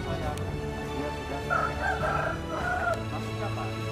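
A rooster at a martial-arts club's rooster test in Makassar crows once at mid-distance, a drawn-out call over a steady low hum and background noise.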